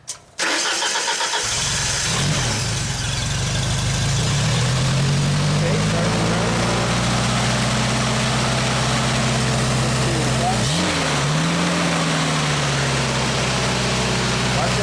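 A Genie lift engine cranks and catches, then settles into a loud, steady running drone that dips and wavers briefly before holding steady, close by, with a voice speaking near the start.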